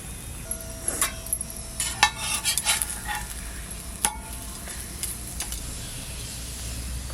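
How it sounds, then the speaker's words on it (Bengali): A vegetable paratha fries in oil in a pan, giving a steady low sizzle with scattered clinks and scrapes of a utensil against the cookware, close and fairly quiet. "পাশ দিয়ে একটু একটু করে তেল দিয়ে দেবো।"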